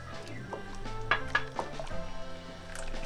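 Whole corn kernels go into a pot of vegan corn chowder, giving light clinks and clatters of metal and utensil against the pot in a short, irregular run of close kitchen sounds.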